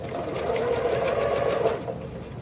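Sewing machine stitching thin binding down onto a garment collar, a steady close whirring run that holds for about two seconds before slowing near the end.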